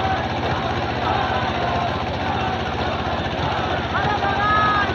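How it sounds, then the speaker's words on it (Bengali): Racing boat in a Bangladeshi nouka baich race, Prámanik Fighter against Swapner Tori, heard as a steady, loud, broadband rush with a rhythmic low throb running without a break, and no voices over it. "এখন নৌকার শব্দ শুনবো দর্শক।"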